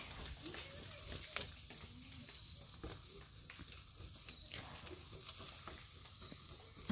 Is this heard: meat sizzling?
yes